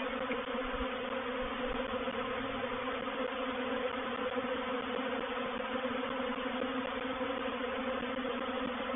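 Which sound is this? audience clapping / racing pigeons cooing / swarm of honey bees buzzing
swarm of honey bees buzzing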